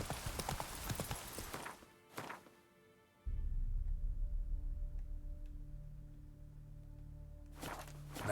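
Roach the horse in The Witcher 3, rapid hoofbeats that break off into a brief near-silence, then a low rumble with faint footfalls before the clopping returns at the end.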